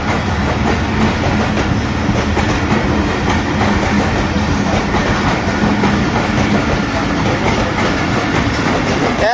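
A train rolls through the 118-year-old British-era Badami Bagh railway station at about 30 km/h, a loud, close, unbroken rumble with steady clickety-clack of wheels over rail joints.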